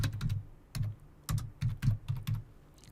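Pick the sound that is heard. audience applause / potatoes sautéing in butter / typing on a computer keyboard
typing on a computer keyboard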